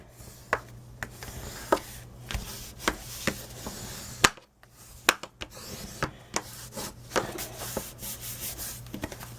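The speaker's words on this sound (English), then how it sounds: "And I'm going to run my bone folder over this." A bone folder rubs firmly over scrapbook paper on a small mini photo album, making a series of quick scraping strokes in an uneven rhythm, close and fairly crisp, with no voices.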